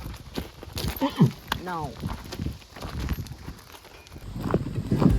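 Horse hooves clip-clop on the ground at a horse surrender event, a few uneven steps under people talking, with a brief whinny-like call partway through.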